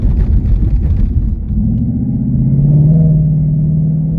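A Ford Mustang S650 GT engine accelerates, a deep rumbling growl that swells and rises in pitch as it pulls hard, loud and close, with no voices over it.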